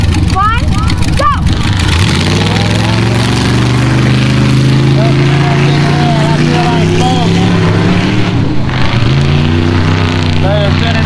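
Big engine of a 4x4 El Camino off-road race vehicle at a racing event, loud and close at full throttle, its pitch climbing and dropping through the run while voices talk over it.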